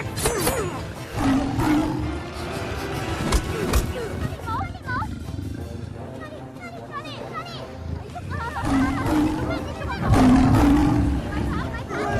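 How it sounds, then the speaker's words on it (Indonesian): An African lion roaring and attacking in an action film, loud repeated roars and growls mixed with shouting voices and dramatic film sound. "Di sini juga terlihat singa Afrika menyerang Tang dan anak buah Broto."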